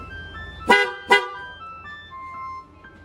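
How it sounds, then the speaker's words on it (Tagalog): Two short, sharp motorcycle horn honks in quick succession, loud and close, followed by faint background noise. "maaari po gamitin ang busina nito para makalikha ng tunog"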